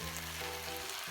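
Warm stock poured into a pan of sizzling mushroom risotto rice, a steady close frying hiss with a low bubbling undertone throughout, no voices.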